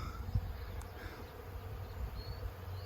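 Bee swarm buzzing at a backyard beehive newly filled with bees, a soft continuous low drone from many insects, fairly quiet and steady with no talk.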